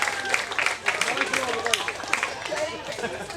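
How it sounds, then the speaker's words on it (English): A wedding-style speech audience claps and cheers for baby Jack, dense close applause mixed with crowd chatter and a voice talking over it. "A big round of applause for baby Jack"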